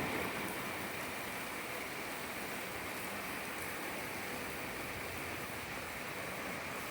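Steady rain pours down during an evening thunderstorm in Augusta, Georgia, a dense, even hiss of drops on surfaces around a carport, continuous and fairly close with no talk.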